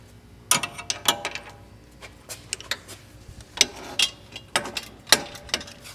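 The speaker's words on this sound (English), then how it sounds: "start by tightening the V-bands down. Grab our trusty 13mm." A 13mm ratchet tightens V-band clamps on an AR Design downpipe install, giving bursts of sharp pawl clicks in short irregular runs with quiet gaps between them, close and alone.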